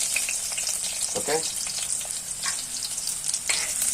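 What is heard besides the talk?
chopped shallots frying after mustard seeds splutter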